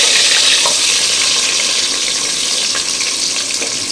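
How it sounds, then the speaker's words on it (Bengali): Sliced onions hitting hot oil already seasoned with bay leaf and whole garam masala while cooking country chicken curry, a loud, dense, continuous sizzle up close, unbroken for several seconds with no voices. "পেঁয়াজটা দিয়ে দিয়ে তারপর একটু হলো আমি নাড়াচাড়া করে দেবো তেলের মধ্যে"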